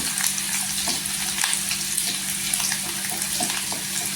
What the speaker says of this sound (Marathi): आता आपण इथे लसूण टाकायची लसूणला आहे ना गोल्डन कलर करून घ्यायचं छान असं तेलावर परतून घ्यायची